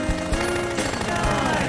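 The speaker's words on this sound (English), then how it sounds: "shooting the fuck out of all these Nazis." Loud, dense automatic fire from twin submachine guns in an animated horror-comedy battle against Nazis, a continuous rattling burst mixed with music and effects, no talking.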